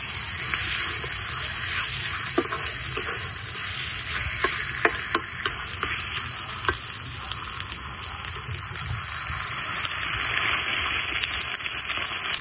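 Salted hilsa fish fries in a pan with ginger and garlic, giving off a steady close sizzle broken by scattered sharp crackles and pops, with occasional stirring, and the hiss swells toward the end.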